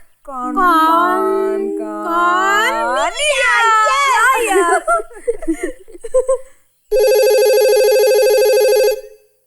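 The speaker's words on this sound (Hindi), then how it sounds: "ये फोन क्यों नहीं उठाते?" A voice sings or chatters playfully, then after a short pause a phone's electronic ringtone trills loudly and steadily for about two seconds.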